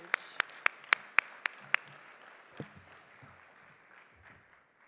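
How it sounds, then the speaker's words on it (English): A handful of sharp, evenly spaced claps from an audience at an investment forum opening ceremony ring out over a quiet room, then fade into faint shuffling and low murmurs. "Let's give her a round of applause as she comes to join me on stage."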